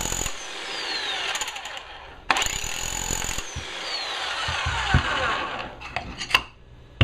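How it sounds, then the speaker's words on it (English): A loud, rattling Harbor Freight SDS Max rotary hammer drill pounds in bursts on hammer-drill mode, stopping abruptly a couple of times before starting again, close and harsh. "Now I'll put it on hammer drill just so we can see if it does do anything."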